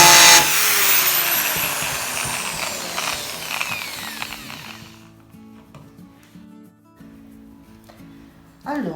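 A power drill bores holes in wooden shelf boards for a rustic rope shelf, with a loud close whine that winds down into a quieter rattling hum, a voice speaking briefly over it.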